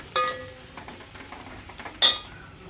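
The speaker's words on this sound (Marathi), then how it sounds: "आता टाकले मी त्यामध्ये टोमॅटो आणि टोमॅटो चांगलं परतून घेणार आहे" Tomatoes sizzling in hot oil for chicken biryani, a soft steady fry punctuated by two sharp clanks of a spoon stirring against the pot, close by with no talking.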